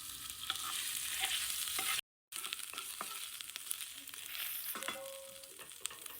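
Ginger and garlic frying in coconut oil give a steady, close sizzle with scattered stirring clicks, broken by a brief silent gap near the start; no voices are heard.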